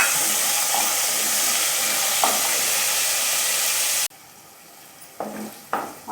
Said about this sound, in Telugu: ఈ టమాటాలు వేస్తున్నాను